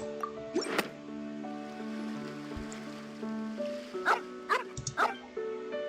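A puppy in the video game Genshin Impact lets out several short, sharp barks over soft, sustained background music, with one yip early and a quick cluster of barks near the end.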